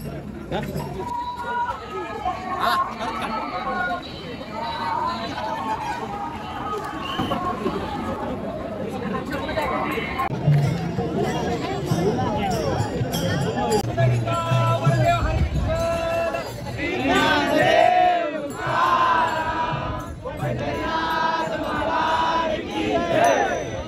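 Pilgrims crowd a Dnyaneshwar palkhi procession at Dive Ghat, with a dense hubbub of many voices, shouts and chatter close around, alongside nearby talking and some louder cries toward the end.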